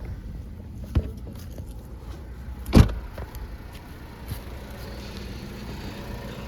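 A car's hood latch releases with a couple of sharp close clunks, the loudest one in the middle, against a steady low background hum, with no talk.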